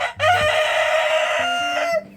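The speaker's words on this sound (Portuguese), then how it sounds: "Os galos dominantes, eles intimidam os demais, até com o canto" A dominant rooster crows once, loud and close, in a chicken coop in a shed, a single long cock-a-doodle-doo.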